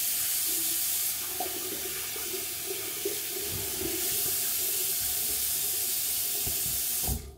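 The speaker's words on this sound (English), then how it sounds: "I must rinse my hand properly now." A hand is rinsed under a running bathroom tap, a steady close hiss of flowing water with faint splashes that cuts off at the end.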